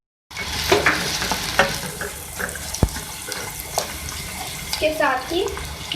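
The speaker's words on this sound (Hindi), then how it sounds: "सबसे पहले मैं ऑयल में डालूंगी प्याज" Chopped onions sizzle steadily in hot oil for a beef Shinwari keema karahi, with occasional clinks and scrapes of a spoon stirring the pan, close and fairly loud throughout.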